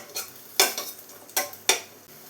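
Onion and curry leaves being sautéed in a pan for chickpea curry (kadala curry), with a few loud scraping stirs over a soft sizzle, close by and without talk.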